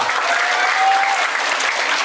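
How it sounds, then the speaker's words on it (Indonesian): Dense, steady clapping from a large crowd at an English and character camp in Bekasi, Indonesia, loud and continuous from start to finish, with no voices rising above it. "Tepuk tangan buat Indonesia."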